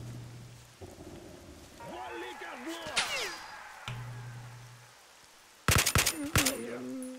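Gunfire from a gun in STALKER: Shadow of Chernobyl: a single sharp crack partway through, then a louder rapid cluster of shots near the end, amid rain-like ambient noise and a talking voice.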